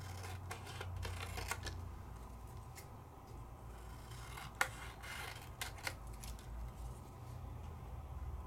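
Scissors cutting through an alcohol ink artwork on paper, a run of close, quiet snips and rustling scrapes with a sharper clip partway through, no talk.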